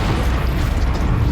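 Bombarda spell explosion in the Hogwarts Legacy video game, a loud, dense rumbling blast that fills the whole moment, with no talk.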